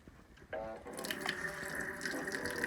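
Water starting to run from a foot-pedal operated tap into a sink in a tiny off-grid kitchen, a click followed by a steady close splashing stream that carries on evenly.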